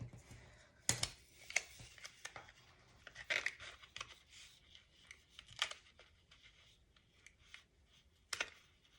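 Scissors snip through a sticker sheet at a planner desk, a few crisp, quiet cuts with paper rustling and handling noise between them, close up and soft.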